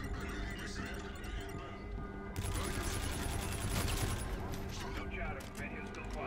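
Video game gunfire in a Call of Duty Infinite Warfare campaign mission, rapid volleys of shots that grow louder partway through, with someone talking over the shooting.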